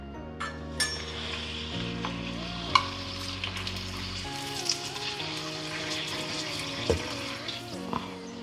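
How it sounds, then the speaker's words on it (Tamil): Appalam poo, an urad dal papad, deep-fries in hot oil with a soft steady sizzle and occasional sharp crackles and pops, while a faint background tone shifts in pitch. "அதுக்குள்ளே நம்ம அப்பளப்பூ பொரித்து எடுத்துக்கலாம்."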